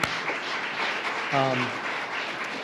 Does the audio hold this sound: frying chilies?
no